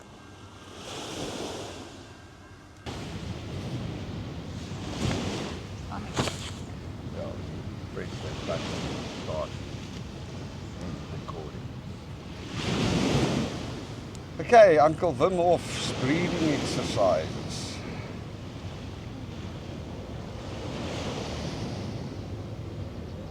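Waves roll onto the ocean shore with rushing surges and gusts of wind buffeting the microphone, while people talk over the surf throughout.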